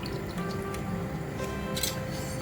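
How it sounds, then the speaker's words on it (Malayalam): Half a lemon squeezed by hand over cooking rice, giving close, soft squishing and dripping juice in a steady wet patter with no talking. "ഒരു പകുതി നാരങ്ങയുടെ നീര് പിഴിഞ്ഞ് ഒഴിച്ചു കൊടുക്കാം"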